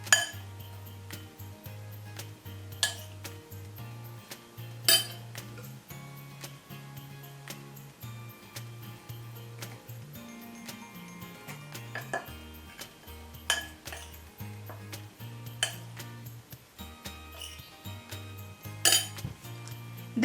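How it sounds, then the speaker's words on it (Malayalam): Chocolate sponge cake batter being mixed in a bowl with flour mix added in batches, giving soft repeated clinks and scrapes of a utensil against the bowl at an even pace, with no talking. "അപ്പോൾ നമുക്ക് ഇത് കുറച്ച് കുറച്ചായിട്ടിട്ട് ഒന്ന് യോജിപ്പിച്ചെടുക്കാം"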